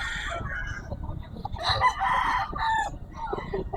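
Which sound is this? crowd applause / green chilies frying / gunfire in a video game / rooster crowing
rooster crowing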